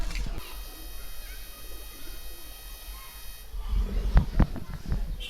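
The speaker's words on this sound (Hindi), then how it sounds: "ये सारे ब्रीडिंग में हैं इस वक्त, ब्रीडर कबूतर हैं हमारे, सब जोड़ों में हैं।" Paired breeder pigeons coo softly inside a home loft over a steady background hum, with louder rustling and clattering movement near the end.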